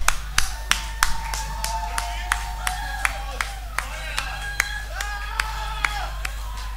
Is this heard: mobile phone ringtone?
no